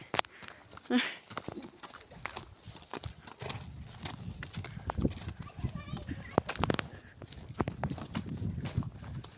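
Hooves clip-clop in uneven, close steps as a man rides a horse in the Jumagund Valley village, with people talking over the scattered clopping.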